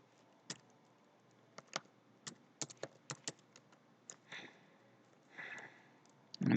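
Keystrokes on a computer keyboard while C# code is entered, sharp separate clicks in irregular bursts, close and fairly quiet, with no talking.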